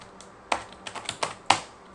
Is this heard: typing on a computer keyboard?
yes